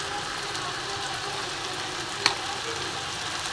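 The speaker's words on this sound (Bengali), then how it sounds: "দেখো বন্ধুরা, লাল লাল করে ভাজা হচ্ছে, আরও ভাজতে হবে, এটা একটু সময় লাগবে।" Taro stolons frying in a pan with a little salt, a continuous close sizzle broken by one sharp clink partway through, no speech.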